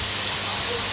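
Garlic goes into a hot pan of softened onions, giving a steady, bright sizzle and hiss that holds evenly throughout at close range, with no talk over it.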